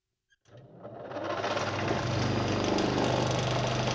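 A homemade engine built from scrap, with rusty flywheel and timing gears from a Dnepr motorcycle, kicks to life after a brief click, then runs in a rapid, rattling, rising chatter that grows loud and steady.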